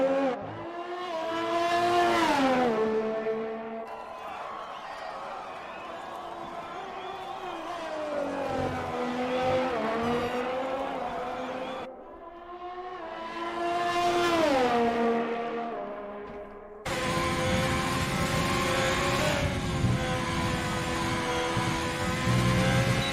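Formula 1 racing car in a video game at the Australian Grand Prix, engine screaming up through the gears then dropping as it brakes into corners, repeated rising and falling revs, loud and close with no talk.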